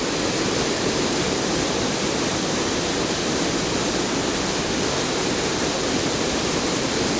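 Sabbaday Falls, a waterfall cascade over rocks in New Hampshire, roars in a steady, dense broadband rush that holds unchanged from start to finish, loud and close with no voices.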